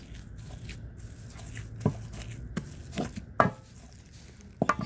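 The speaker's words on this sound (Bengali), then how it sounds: "এই তো ডাল ঘুটনিটা দিয়ে ভর্তাটা বানায় নেব একদম সুন্দর করে" A wooden dal masher squishes and pounds a bhorta mash in a home kitchen, with soft irregular squelching and a few sharper knocks spaced through the mashing, close and fairly quiet.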